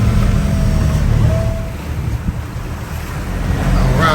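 A sailing boat pitches through rough sea as wind opposes the outgoing tide, with loud buffeting wind across the microphone, rushing water along the hull and waves slapping, continuous and close; no speech.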